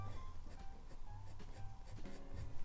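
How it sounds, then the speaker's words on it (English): Colored pencil shading on paper, a soft continuous scratchy rubbing with quick back-and-forth strokes, close and quiet. "I'm going to come in with the pencil, colored pencil"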